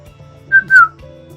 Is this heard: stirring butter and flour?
no